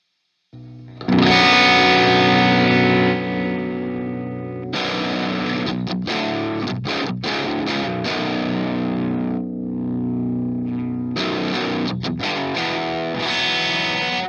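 High-gain distorted electric guitar through the Flamma wireless preamp on its Plex 50 preset, playing loud sustained chords and riffs with brief pauses and choppy muted hits, with no talking.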